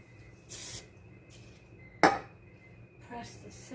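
A brief burst of butter cooking spray is released into a bundt pan, a short hissing spritz, followed by a sharp clatter of kitchenware and a second faint spray near the end.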